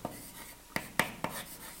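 Chalk or marker strokes on a board during a several-variables maths lecture, a few sharp tapping and scratching marks in a quick irregular run, close and moderately loud, with no talking.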